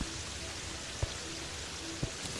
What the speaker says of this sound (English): I do like it when it rains, zombies show up in rain gear.